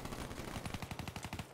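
Rapid automatic gunfire from the video game Black Ops 3 rattles off in a quick, evenly spaced burst of about a dozen shots, fairly faint and with no talk over it.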